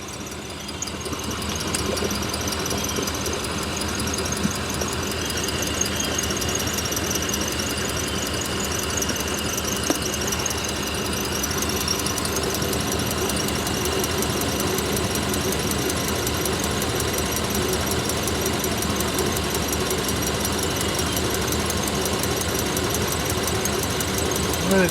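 A 1993 Chevy 1500 OBS pickup runs after sitting for 16 years. The engine holds a loud, steady drone throughout, with a continuous high-pitched squeal riding on top and occasional faint knocks.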